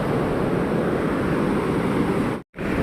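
Sea waves wash onto Mithbav beach near the Gajbadevi temple on the Devgad coast during the first monsoon rains, a steady loud roar of surf and wind with no talk, broken by a brief dropout near the end.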